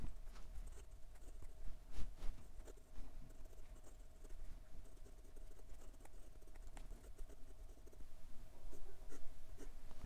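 Nib of an Asvine P30 bronze piston-filler fountain pen scratching and gliding across paper in reverse strokes, a soft continuous scritching with brief taps and skips, close and fairly quiet over a steady room hum.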